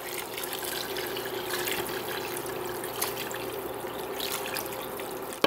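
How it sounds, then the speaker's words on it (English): Water runs steadily into a pot on the stove for tomato soup, a continuous trickling pour with an even hiss that holds at a moderate, close level throughout. "I'm just gonna add a little bit of water to this"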